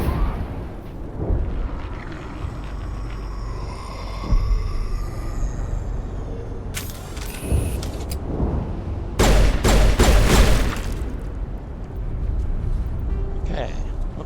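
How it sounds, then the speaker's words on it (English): The Mako vehicle in Mass Effect LE fires its machine gun and cannon, loud bursts and booms over a steady engine rumble, with a person talking through much of it. "It's got a machine gun and a cannon."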